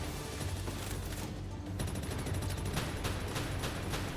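Rapid rifle gunfire in the game Palworld, a dense continuous burst of shots running the full length, loud and close, with no talk.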